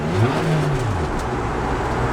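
A Nissan 180SX fitted with a loud exhaust revs close by, its engine note rising and falling in one short, steady burst with no voices.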